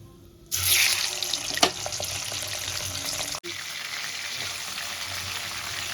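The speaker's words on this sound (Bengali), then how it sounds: "চিংড়ি মাছগুলো দিয়ে আমি হালকা করে ভেজে তুলে নেবো" Prawns go into hot oil for a light fry, and a sudden, steady sizzling hiss starts and continues close by with only a brief dip partway through.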